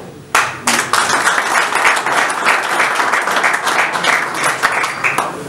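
An audience at a post-match football press conference in Lübeck applauds to welcome the two team coaches, steady sustained clapping from many hands filling the room for several seconds.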